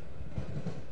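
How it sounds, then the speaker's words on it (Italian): Low rumbling train passing in the horror adventure game The Last Door, a steady, continuous rail drone with faint rhythmic thuds, moderately loud and alone for about a second. "Sento un treno."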